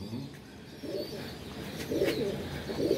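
Domestic pigeons coo in low, soft bursts that repeat several times at close range, with no talk over them.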